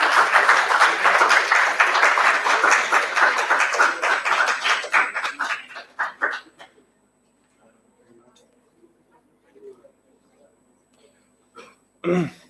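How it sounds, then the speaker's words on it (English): A group receives a round of applause at a business plan presentation, dense clapping that thins and fades out after about six seconds, leaving near silence with a few faint sounds. "A huge round of applause for the group."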